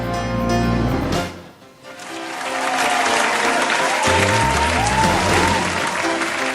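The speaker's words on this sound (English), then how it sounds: "let's give Mr. Eric John B. Tercio a big round of applause" Loud audience applause at an award ceremony during Pasiklaban 2025 swells, briefly dips, then resumes as dense, sustained clapping from a large crowd.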